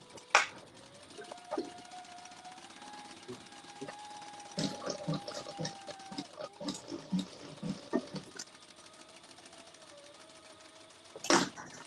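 A sewing machine stitches open seam allowances on a fabric bag in short bursts, its clattering motor rising and stopping nearby, mixed with fabric handling, clicks and a faint hum.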